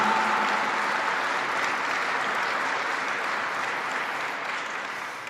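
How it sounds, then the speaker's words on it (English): Sustained applause from a large military audience at Fort Drum, New York, a dense even wash of clapping that fades slightly toward the end, with no speech over it. "So give yourselves a round of applause."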